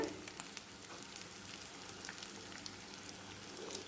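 Masala-coated fish pieces fry in hot oil with curry leaves, a soft steady crackle and fine sizzle close by, fairly quiet and without talking.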